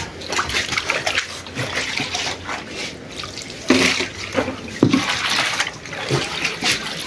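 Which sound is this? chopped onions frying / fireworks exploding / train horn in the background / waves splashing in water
waves splashing in water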